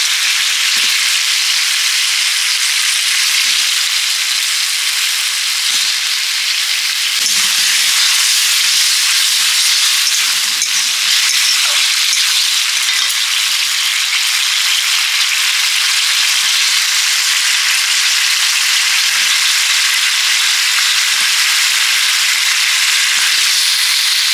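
Potatoes and pumpkin fry in hot oil in a pan for a Bengali pumpkin chhokka, a loud, steady, dense sizzle that holds for the whole stretch with faint stirring knocks underneath and no talking.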